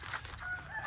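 A faint, distant heritage chicken rooster crow rises briefly over low background rumble in rural Balayan, Batangas.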